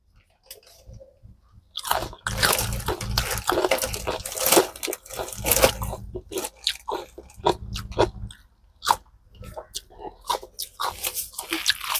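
Crunching bites of fresh, spicy baechu kimchi made from tender young napa cabbage, heard as a series of close, moist chews with a few quiet pauses between them and no talking.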